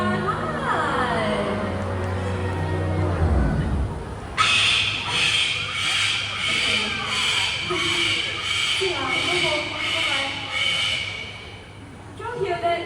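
An Amazon parrot at a bird show lets out a long run of loud, harsh, pulsing screeches that follow someone speaking and dominate the setting for several seconds.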